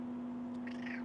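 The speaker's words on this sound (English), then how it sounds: "This is my cat, Pumpkin" A pet cat lets out a single short meow nearby, heard over a steady electrical hum in an indoor room.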